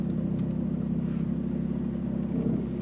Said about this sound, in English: I hope you can hear that juice, just kind of gentle, solid acceleration there.